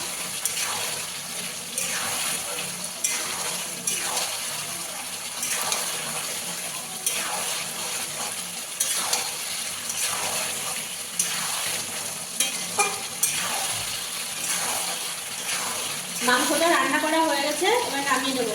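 Mutton cooking in a pan with ground garam masala being stirred in, loud repeated scraping strokes over a constant sizzle, with a brief sharper clatter near the end.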